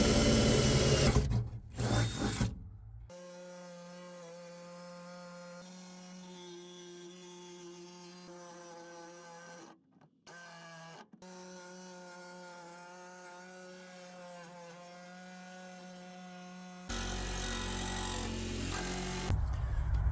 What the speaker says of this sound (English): use my jigsaw with the metal blade to slowly go around